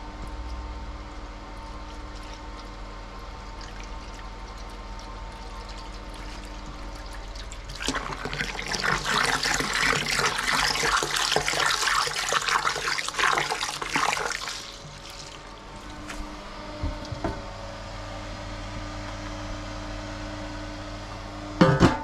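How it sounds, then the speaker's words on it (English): A pump pushes liquid through a line for aerating wort on a homebrew brew day, running as a steady low hum; a louder rushing, splashing flow surges in the middle for several seconds before settling back to the hum, with no talk. "I'll get the pump going on that."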